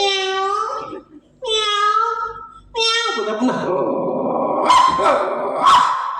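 A person makes a couple of meow-like calls, then imitates a dog with gruff barks and growls, loud and close.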